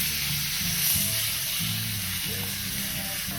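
Steak tips and picanha sear on a Blackstone griddle with a steady, close hiss and crackle of fat, constant throughout with no voices over it.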